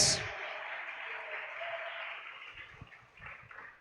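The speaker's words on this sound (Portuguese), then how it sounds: "Aplauda ele bem forte, que ele merece." A church congregation applauds loudly, a dense wash of clapping that stays steady across the whole stretch with no speech over it.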